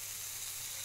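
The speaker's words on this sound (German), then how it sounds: "Also ab in die Pfanne mit euch." Köfte patties fry in a pan, giving a brief, even, hissing sizzle with no voices.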